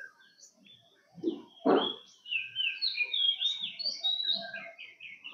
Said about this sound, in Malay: Kau dengar tu kan pagi-pagi bunyi burung tu